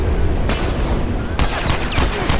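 Gunfire in a multiplayer Factions shooter match lands a headshot: several sharp, loud shots crack out in quick bursts over constant background game noise.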